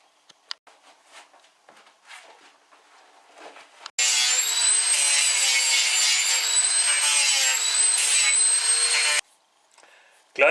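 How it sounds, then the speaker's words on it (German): An angle grinder smooths sharp edges on steel, running loudly for about five seconds, a sustained high-pitched whine with a harsh, gritty edge. Quieter scraping and handling noises come before and after it. "Auch die scharfen Kanten machen wir jetzt gleich mit der Flex weg."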